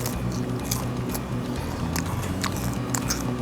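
Crunchy bites into a fried tortilla shell wrapped around Korean sweet-and-sour pork, with several crisp crackles and chewing over a steady, noisy room background.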